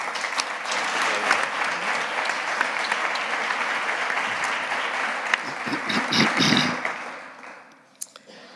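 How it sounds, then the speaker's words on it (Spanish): An audience applauds a flamenco singer at a tribute event, a full, sustained burst of clapping that holds steady, swells briefly near the end, then fades out with a last stray clap. "Un fuerte aplauso para el maestro."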